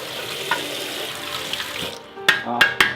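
Tap water runs over a hookah part in a sink, a steady near splashing hiss broken by a few sharp knocks and clatters of the part against the basin toward the end.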